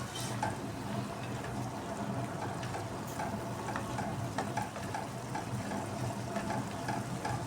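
Vegetables being stirred in a hot pan after salt and crumbled bouillon cubes go in, a steady close sizzle running throughout with scattered clinks and scrapes of the spoon, no voices.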